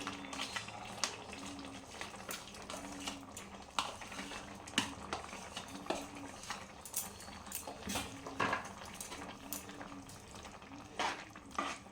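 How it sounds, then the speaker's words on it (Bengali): Soaked, drained sago stirred in a pot for a vegetarian Bengali khichuri: steady light scraping and clinking of a spoon against the pot in an irregular rhythm, with a faint bubbling simmer underneath; no talking. "এভাবে নাড়াচাড়া করব আমি, করে আবার আমি ঢাকিয়ে দেব 10 মিনিটের জন্য"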